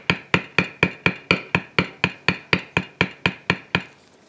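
Round beveler tool struck repeatedly on leather while finishing a floral carving, giving about seventeen close, crisp taps in a steady quick rhythm, evenly loud and alone.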